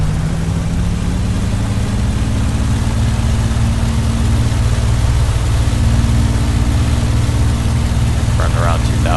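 Steady, loud piston aero-engine drone of a Supermarine Spitfire in the A2A flight simulator, run up to about 2,000 RPM on the ground with the tail held down, a continuous low roar that holds pitch throughout.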